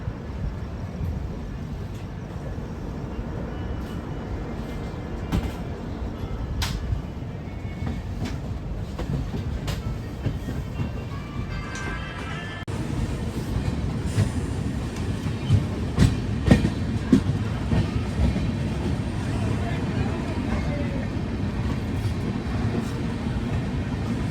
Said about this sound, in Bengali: আমাদের ট্রেন কিন্তু এখন ঢুকে গেছে বর্ধমানে